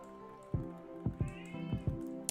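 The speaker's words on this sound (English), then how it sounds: "Sorry if you hear the cat again. She doing her screaming thing." A domestic cat repeatedly cries and wails indoors, several short strained calls spaced about half a second apart with a drawn-out yowl in the middle, moderately close.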